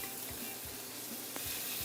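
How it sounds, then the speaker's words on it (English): Quiet, steady sizzling of smoked pork belly searing in a pan, a soft continuous hiss with faint crackles and no talking. "we got some smoked pork belly going in here"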